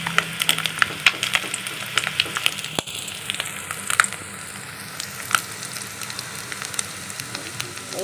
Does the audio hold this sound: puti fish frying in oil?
yes